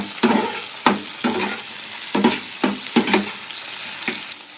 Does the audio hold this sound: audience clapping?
no